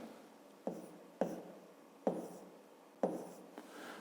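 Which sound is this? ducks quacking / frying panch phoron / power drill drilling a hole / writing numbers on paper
writing numbers on paper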